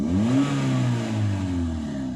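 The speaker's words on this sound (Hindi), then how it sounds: "मैं हल्का सा रेस दे देता हूँ" A Toyota Etios fitted with a CNG kit gets a light blip of the throttle, its engine rising in pitch then settling into a steady, close hum as it holds the higher revs, with no voices.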